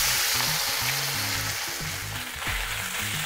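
Pork slices frying in a hot wok give a steady, close sizzle and crackle that fills the whole stretch, with scattered low knocks and scrapes of cookware beneath.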